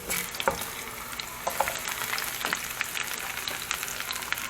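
White onion fries in a pan with a constant, close hiss of sizzling, dotted with light clicks and scrapes of stirring, and no voices.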